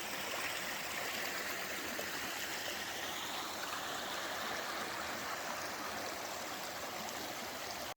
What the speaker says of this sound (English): Another thing that I'm really into is streams slash rivers.